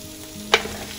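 Mutton meets caramelized onions in a hot pot for Hungarian paprikash, a steady sizzle broken by one sharp loud burst of crackling as the meat lands, then settling back, no voices.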